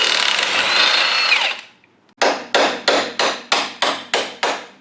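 Hammering on a Ford 9-inch rearend being installed: after a loud steady power-tool whir and a brief pause, eight sharp metallic blows land in an even, quick rhythm, close and loud.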